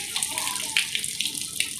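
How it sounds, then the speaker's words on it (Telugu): Muddy floodwater flows in after a heavy downpour, a close steady rush of water with small splashy droplet plinks scattered through it. "చూడు బుడద నీళ్ళు వచ్చేసినాయి"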